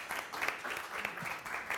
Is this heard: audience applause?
yes